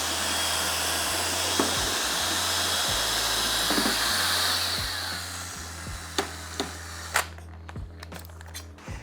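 A mixer blitzes grain mash while brewing a session IPA, a steady loud whirring motor hum with slight pitch shifts, ending in a few sharp clunks and knocks as it stops.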